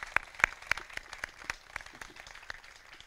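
Audience at a Memorial Day ceremony in Moreno Valley applauding the Moreno Valley Master Chorale: sparse, fairly faint claps with a few sharper individual hits, thinning out over a few seconds.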